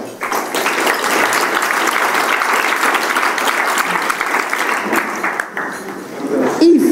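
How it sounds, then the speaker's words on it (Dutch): Loud, sustained applause from an audience at an event in Loppersum, steady crowd clapping that dips briefly before a voice starts near the end. "Mag ik hier naar voren een groot applaus."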